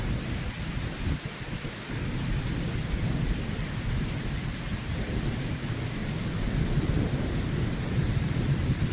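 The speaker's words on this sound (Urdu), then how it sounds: "شاید میں لوکلی اس وقت اپنی جگہ پہ ایک کلاؤڈ برسٹ جو ہے جس کو کہتے ہیں کہ بادل پھٹ گئے ہیں، شاید میں اس کو ریکارڈ کر رہا ہوں" Cloudburst in Pothwar at night: an extremely heavy downpour roars as a dense, steady wash of rain hammering surfaces. Low thunder rumbles underneath, with no voices.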